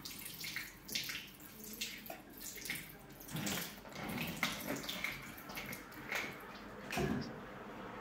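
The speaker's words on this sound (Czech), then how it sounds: "proléváme lahvičkou vodu po okraj" Water pouring steadily from a tap into a small bottle until it is full to the brim, a continuous close splashing trickle with slight surges and faint knocks, no talk over it.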